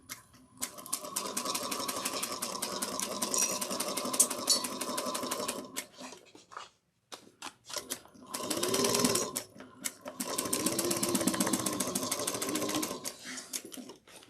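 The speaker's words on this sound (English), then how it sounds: "And we're going to sew this at a 1/2 inch seam allowance." Sewing machine stitching a half-inch seam on a fabric bag, a rapid close mechanical whirring hum in two long runs split by a short pause with brief stop-start stitches.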